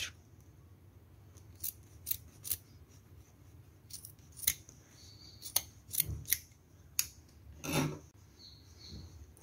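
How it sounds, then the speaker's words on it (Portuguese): Scissors snip through fabric lining for a crochet bag made with nautical cord, giving a series of faint, crisp cuts in an uneven rhythm against a quiet room. "Agora, eu vou cortar esse triângulo"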